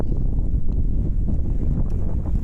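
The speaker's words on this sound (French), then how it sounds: "Aujourd'hui il y a beaucoup de vent" Strong wind buffeting the microphone in open fields along the Camino Francés, a dense low roar that gusts and churns without pause for the whole short stretch.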